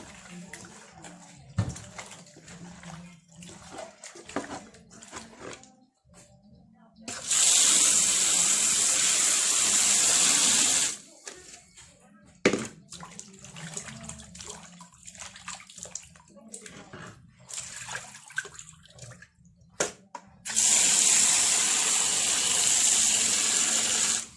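Fish being washed under a strong running tap to strip off the slime, two long loud bursts of gushing water separated by quieter handling, splashing and rinsing, with someone speaking in between.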